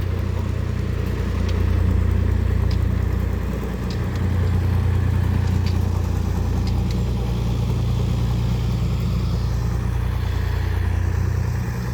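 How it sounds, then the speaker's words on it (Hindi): A tractor hitched to a trolley runs its engine steadily for the whole stretch, giving a low, continuous rumble that swells slightly in places, with no talking. "ये गाड़ी ट्रैक्टर और ट्राली"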